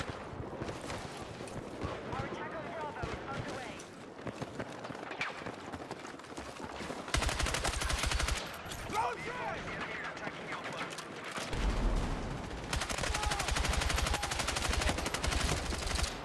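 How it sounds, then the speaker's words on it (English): Video game gunfire sends bullets into an abyss, with sustained rapid bursts of shots that grow denser in the later part, mixed with a talking voice. "I'm just firing bullets over in the abyss"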